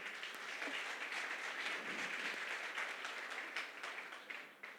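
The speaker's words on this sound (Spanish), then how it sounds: "Denles un aplauso, por favor." Sustained audience applause in a church during a sermon on Galatians, a dense, steady wash of many hands clapping for about five seconds before thinning slightly at the end, with no voices over it.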